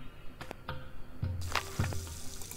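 Water from a faucet in The Sundew video game, heard as a few short splashy bursts and gurgles over a low hum, fairly close and moderate in level, with no talking.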